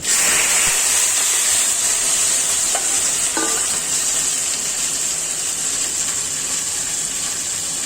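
Sliced snake gourd, onion and green chilli go into hot oil tempered with panch phoron, bursting into a loud, steady hiss and sizzle that holds throughout, with a few light utensil taps.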